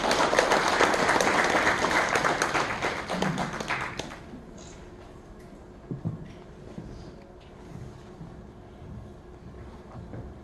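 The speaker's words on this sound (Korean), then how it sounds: "큰 박수로 맞이해 주시기 바랍니다" An audience in a memorial hall welcomes a speaker at a founding ceremony with a burst of dense applause that fades out after about four seconds, leaving quiet room tone with a few faint knocks and thumps.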